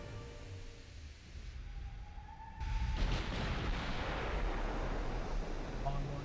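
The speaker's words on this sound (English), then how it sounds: "More hits against the battleship, take it down." Heavy naval gunfire and shell impacts on a battleship in a naval warship game, a low rumbling blast that swells into a sustained roaring wash of noise.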